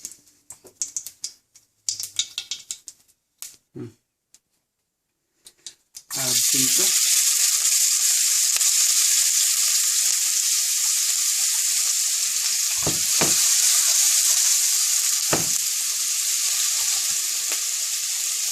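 Whole spices crackle in hot oil with asafoetida powder added, cooking for a seabass and langoustine green curry. A few seconds of clattering handling lead into a loud, close, continuous hiss and sizzle, with occasional pops and knocks.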